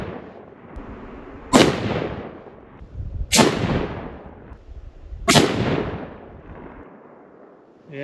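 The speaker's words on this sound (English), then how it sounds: "I'm going to shoot 3 more." Three loud, sharp rifle shots fired at a target on a shooting range, evenly spaced about two seconds apart, each a close crack followed by a long rolling echo that fades out.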